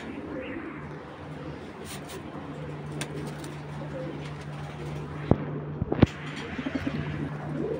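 Racing pigeons coo at a pigeon farm, a soft steady murmur of calls running throughout with a low sustained tone, a few sharp knocks near the end, and faint voices in the background.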